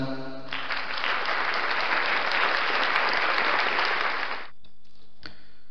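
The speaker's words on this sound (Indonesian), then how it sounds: "Ya, tepuk tangan untuk kita semua." Applause from a class fills most of the clip, a steady dense burst of clapping that starts abruptly and stops just as suddenly, leaving near silence with a faint tick at the end.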